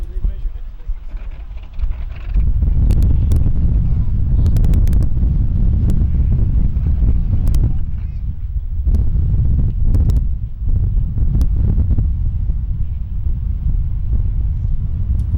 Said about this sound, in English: the winds are really blowing about 25, 30 miles per hour, white caps out there